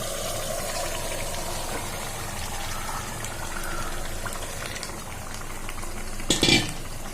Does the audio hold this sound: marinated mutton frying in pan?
yes